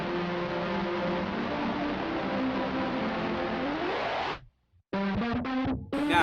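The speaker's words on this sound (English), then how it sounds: "you can use this as only a distortion if you turn all of the delay time off for the reverb" An Eventide Mangledverb overdrive distortion effect on iPad holds a buzzing, heavily distorted sustained tone, cuts to brief silence, then returns in several choppy, stuttering bursts.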